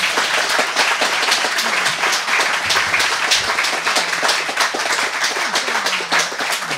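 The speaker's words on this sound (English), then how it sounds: "Let's give them a big round of applause." An audience gives panelists a loud, sustained round of applause, many hands clapping densely and evenly with a few individual claps standing out and no talking.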